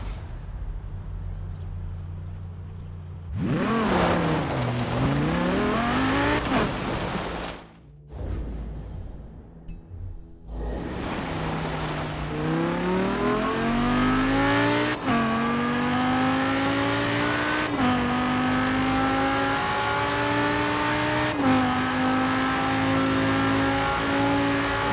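A stunt car in the Forza Horizon 4 video game roars to life after a quiet start, then revs and shifts through rising gears with brief tire squeals, loud and up close, with no talking.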